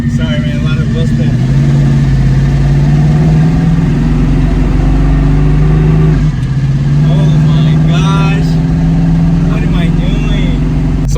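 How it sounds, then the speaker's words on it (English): A car accelerates hard with wheel spin, its engine loud and close with a droning, rising roar that continues throughout, while people talk over it. "A lot of wheel spin."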